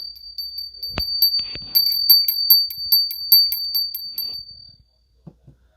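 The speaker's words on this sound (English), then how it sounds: "Then I have this mini bell, which I absolutely love." A small mini bell rung by hand, giving bright, high metallic rings in a quick repeated series, with a couple of separate strikes first, close and clear, then stopping into silence.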